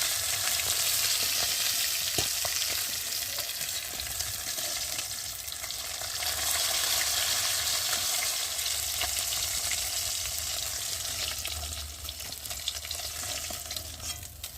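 Continuous crackling sizzle of fish pieces frying in hot oil, loud and close, with occasional clinks of a utensil stirring.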